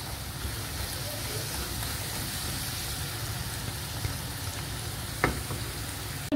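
Chopped onions frying in hot oil with ginger and garlic, a steady dense sizzle close by with a couple of faint utensil taps near the end.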